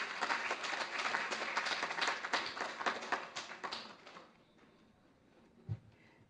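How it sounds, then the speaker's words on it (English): An audience at an International Women's Day event gives a round of applause, a dense patter of clapping that carries on for about four seconds, then fades out to near silence with one faint thump. "Let's give her a round of applause."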